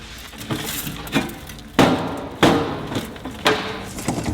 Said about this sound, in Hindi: हमें इसे तोड़ना होगा। हम इसे तोड़ देंगे और गोलियां बाहर निकाल देंगे।